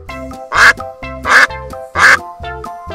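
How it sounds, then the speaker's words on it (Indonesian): Three loud, nasal duck quacks at an even pace over light background music. "Ini adalah nama dan suara binatang ternak bebek."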